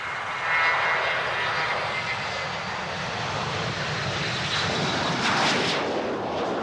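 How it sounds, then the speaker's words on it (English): Airliner engines roar at Will Rogers World Airport in snowy, slushy conditions in 1983, a loud, continuous broadband rumble and whine that swells slightly as the aircraft moves, with no speech. "Airliner operations have been touch and go at Will Rogers World Airport for the past 3 days."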